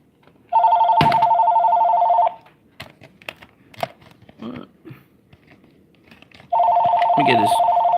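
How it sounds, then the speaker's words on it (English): A telephone bell rings loudly in two long bursts, one at the start and one near the end, with scattered small knocks and clatter between them and someone talking over the first ring. "By the time you actually get to the damn phone, and you finally pick up the damn phone, it stops ringing."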